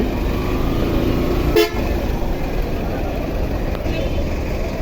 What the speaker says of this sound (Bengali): দেখেন প্রচণ্ড পরিমাণ জ্যাম আছে রাস্তা